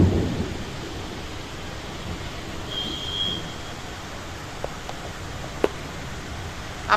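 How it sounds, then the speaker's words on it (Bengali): A rainstorm falls steadily outdoors, an even, moderately loud hiss of rain with a low rumble at the start and an isolated sharp click later on. "এত অপূর্ব বৃষ্টিটা হচ্ছে।"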